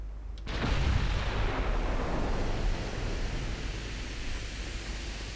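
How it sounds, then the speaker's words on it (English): Torpedoes striking a battleship in the naval game Ultimate Admiral Dreadnoughts, heard as a sharp onset followed by a broad, sustained roar of blasts and rumbling water that stays loud and slowly fades over several seconds. "There we go, torpedoes are away. All 8 hit."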